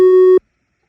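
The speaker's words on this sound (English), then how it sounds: "I'm actually gonna do one more thing of 3x oscillator. Keep it as a sine wave." A pure sine-wave synth tone from FL Studio's 3x Osc plugin, one steady sustained note lasting about a third of a second with a clean cutoff, loud and isolated, followed by silence.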